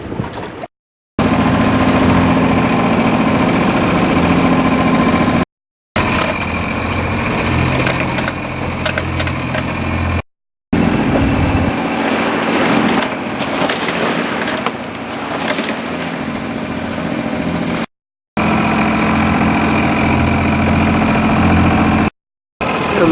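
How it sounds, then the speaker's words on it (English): The engine of a Cobra 850 sailing boat runs at sea with a steady droning hum and rumble, close and fairly loud, broken by several short cuts, with no voices. "I think I'm just going to put the engine on now,"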